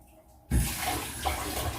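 A household tap in a home where the water supply was just restored bursts on after a moment of quiet, then gushes steadily and loudly close by, the flow sputtering slightly as air clears the pipe.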